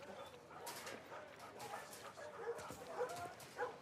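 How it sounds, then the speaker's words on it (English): Caged dogs in a TV drama bark and whimper faintly through a quiet, muffled scene, with short yips and whines over low room noise. "Dogs don't like to be caged like that."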